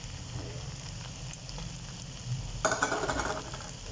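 Green chilies drop into daal mash frying in a pan, a constant soft sizzle and crackle that swells into a brighter, louder burst of spitting near the end.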